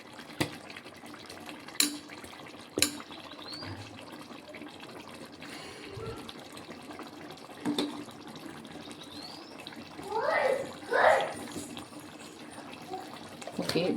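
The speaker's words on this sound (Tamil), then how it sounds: "ஓகே பாதி நெய் ஊற்றியாச்சு." Ghee pours into a pot of pounded-spice mutton biryani, a soft liquid trickle swelling for a few seconds near the end over quiet kitchen background with occasional clinks.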